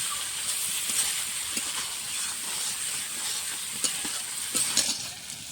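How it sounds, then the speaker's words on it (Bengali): Fried potatoes stirred into sizzling spiced oil for a winter rohu fish curry, a steady close hiss of frying with scraping stir strokes and a few sharper crackles toward the end. "এখন দিয়ে দেবো ভেজে রাখা আলুগুলো। আলুগুলো দিয়েও বেশিক্ষণ কষতে হবে।"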